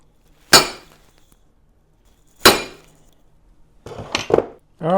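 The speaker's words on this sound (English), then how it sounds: "I got my holes punched." Hammer and punch striking metal to punch holes in a bracket for a manual brake conversion on an 87-96 Dodge Dakota, two sharp ringing metallic blows spaced apart, then a quicker cluster of clanks and a final hit, close and loud.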